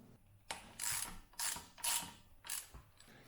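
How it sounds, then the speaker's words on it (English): A ratchet with a 14mm socket loosens the brake caliper bolts on a Mutt 125 motorcycle's front end, giving several close, quiet bursts of rapid clicking in a rhythmic back-and-forth pattern. "Next, loosen the caliper bolts with a 14mm socket."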